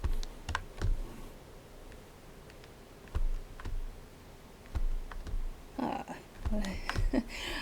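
Typing on a Windows computer keyboard at a drawing desk, with scattered near clicks and short bursts of keystrokes, a brisker flurry toward the end, over faint room noise.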